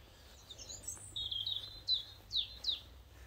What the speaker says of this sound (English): Plenty of bird song, as I'm sure you've noticed.